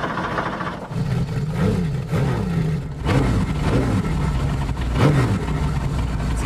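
A Porsche 930 with a tuned 3.8-litre engine revs in repeated rising and falling bursts over a rough, throaty idle, loud and close throughout.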